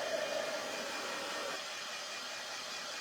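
A hair dryer blowing over a craft project, a steady airy roar held close and constant, with its pitch dropping slightly partway through.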